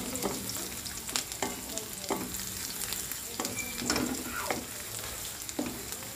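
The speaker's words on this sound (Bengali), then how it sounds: "পেঁয়াজ আর রসুন ফোড়ন দিয়ে একটু হালকা করে ভাজব" Onion and garlic frying in oil in a pan ahead of a mutton curry, a steady close sizzle with repeated scraping stirs of a spatula throughout.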